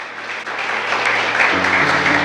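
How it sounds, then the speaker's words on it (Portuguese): A congregation in church bursts into steady, full applause, many hands clapping evenly and loudly throughout, with a low musical tone entering toward the end. "Pode aplaudir ao Rei dos Reis"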